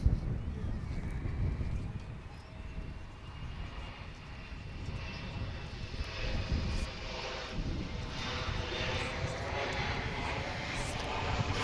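An Embraer 175 jet airliner at Dallas/Fort Worth Airport, its engines producing a steady, fairly loud broadband roar that holds throughout with slight swells.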